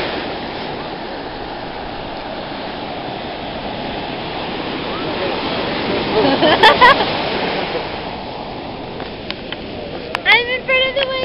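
Surf rolls onto the sand at Huntington Beach, a steady loud wash of ocean water close by, with a louder surge of splashing midway and brief voices and sounds near the end.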